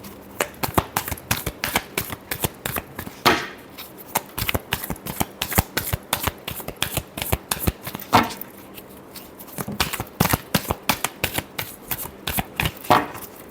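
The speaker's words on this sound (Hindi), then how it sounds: "Last shuffle." Tarot cards are shuffled by hand in a rapid run of crisp riffling bursts that come in quick repeated clusters, close and fairly loud, with no talking.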